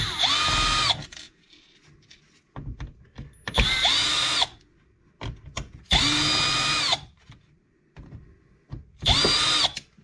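Power drill spinning out the three receiver box screws on an RC car chassis, four loud whirring bursts of about a second each with quieter clicks and handling between them.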